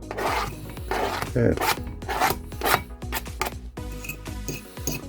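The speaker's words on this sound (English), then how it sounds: "There's the little onion tip cutting trick." A knife chops onion on a cutting board for a stir fry, with quick, irregular cuts landing one after another over steady background music and a brief spoken word.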